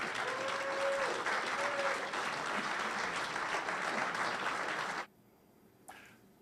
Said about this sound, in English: have you encourage him with a round of applause